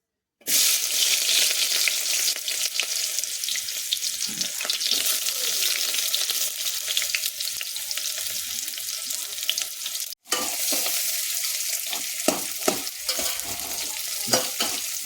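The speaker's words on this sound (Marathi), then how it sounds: "तेल तापलेलं आहे। मी आता त्याच्यामध्ये कांदा टाकून घेणार आहे।" Onions hit hot oil for chicken biryani, bursting into a loud, dense sizzle that holds steady, with a brief cut, and stirring clicks and scrapes in the later part.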